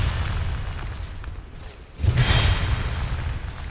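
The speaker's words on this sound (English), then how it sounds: "No, you need to do it with the explodey barrels." Explosive barrels blow up in Dark Souls 2, a single deep, loud boom bursting out of a low rumbling background, followed by a trailing whoosh as it fades.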